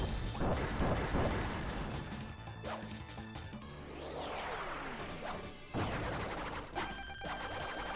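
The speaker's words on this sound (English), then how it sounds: "Bombs." Bombs blasting in a Kirby video game, loud dense crashes and whooshes layered over busy game music and effects, continuous and near with repeated sharp hits.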